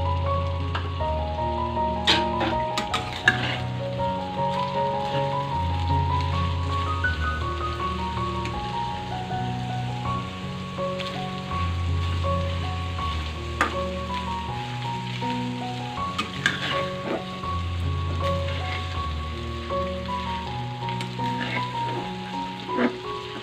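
Hotdog pieces sizzle in a frying pan while a sweet-style spaghetti sauce is being made; a steady, close crackle runs throughout beneath continuous background music.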